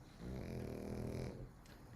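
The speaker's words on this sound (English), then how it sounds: "They're both unconscious, snoring, like right here." Two dogs lying asleep nearby give a faint, low snore, one drawn-out rumbling breath with a soft nasal rasp in a quiet room.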